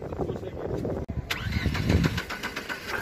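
A car engine, at a used car market in Khujand, turns over and runs with a steady rumbling idle close by, with a voice talking over it.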